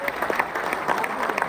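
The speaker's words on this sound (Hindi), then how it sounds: "एक बार अपने लिए तालियां बजाइए।" A large audience at an international Urdu poetry gathering claps in a brief, lively burst of dense applause heard close and fairly loud.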